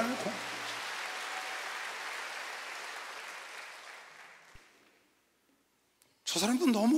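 A church congregation claps together during a sermon, a sustained round of applause that gradually fades out into near silence before a voice begins speaking at the end.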